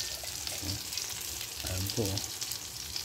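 Tamban fish fry and sizzle in a covered pan, a steady hiss with bubbling pops. Brief speech is heard over it now and then.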